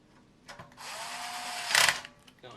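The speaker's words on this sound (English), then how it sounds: "Let's take these normal size screws again and get them back in." An electric screwdriver drives screws back into the metal shield of a Nintendo NES console, with a steady whirring buzz lasting about a second that rises into a louder, strained burst before stopping, close to the microphone.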